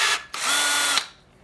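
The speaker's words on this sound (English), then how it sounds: "use this barrel trimmer tool" A barrel trimmer tool spins briefly to true the end of a glued wooden pen blank for woodturning. It makes a short, loud, close power-tool whir that stops abruptly, heard alone.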